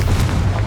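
A Confringo spell explodes in Hogwarts Legacy, a single short, heavy, low boom that rumbles loudly for under a second.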